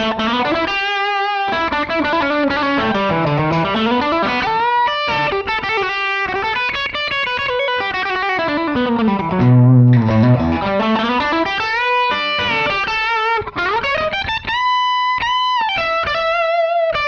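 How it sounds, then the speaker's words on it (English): A 1981 Ibanez Musician MC 550 electric guitar plays a sustained solo through heavy distortion, with bending, sweeping lead lines and long ringing notes, loud and alone. "I could dial in a bit more distortion"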